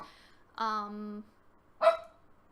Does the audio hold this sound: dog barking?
yes